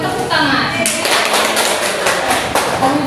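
Classroom of students clapping hands during a teaching session, close loud clapping from a small group with a voice and other voices mixed in.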